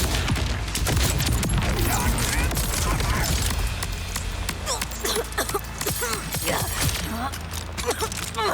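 Shotgun fire in the video game Borderlands 4, a dense run of loud gunshot blasts and mechanical clatter with sharp impacts, mixed under a person talking during play.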